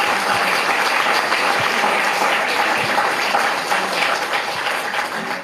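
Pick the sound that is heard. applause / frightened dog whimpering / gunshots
applause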